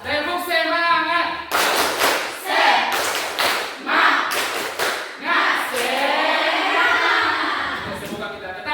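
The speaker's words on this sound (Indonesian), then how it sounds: "Apakah kita tepuk semangat lagi?" Students in a classroom doing a patterned cheer clap, loud clusters of unison claps and slaps in a rhythmic sequence, interleaved with the class shouting words together.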